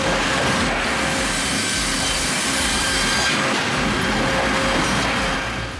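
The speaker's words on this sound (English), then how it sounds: "We start with the trim saw, ensuring dimensional accuracy" A trim saw cuts wood on an automated processing line, giving a loud, steady, dense mechanical roar with a rubbing, grinding edge that holds constant throughout.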